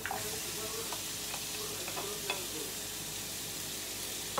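Red and green capsicum sautéing in a pan with garlic, a soft continuous sizzle with a few light stirring clicks, fairly quiet and close, no talking.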